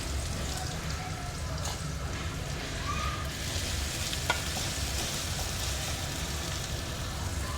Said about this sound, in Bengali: পেঁয়াজ কুচিটা দিয়ে দিয়েছি তেলের মধ্যে